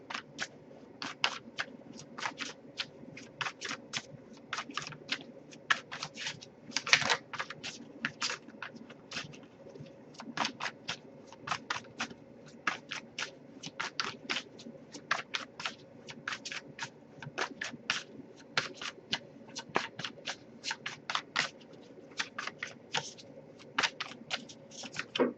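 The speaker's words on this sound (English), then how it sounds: "if I shuffle for a while without anything coming up, I'll just move on to the next Oracle deck." A tarot oracle card deck is shuffled continuously, giving a steady run of crisp riffling bursts of card edges at close range, with no talk over it.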